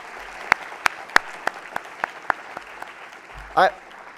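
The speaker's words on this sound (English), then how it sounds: "That's another round of applause, please." A handful of scattered, isolated claps from an audience at a school opening ceremony after a guest speech, spaced unevenly, followed by a brief louder burst near the end.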